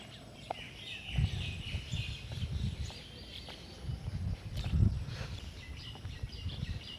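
Faint chirps from a flock of birds scattered across an outdoor riverside ambience in Barishal, Bangladesh, with low rumbling noise underneath and no talking.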